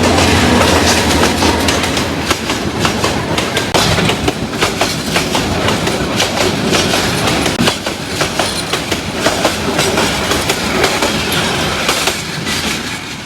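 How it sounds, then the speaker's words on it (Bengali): The Tista Express passenger train, bound from Dhaka to Jamalpur, rumbles loudly past the abandoned Sutiakhali railway station in Bangladesh, with continuous clickety-clack of wheels and car noise close by. "এখনই দেখা যাইতেছে এই স্টেশনটা আর ট্রেনটা আসতেছে।"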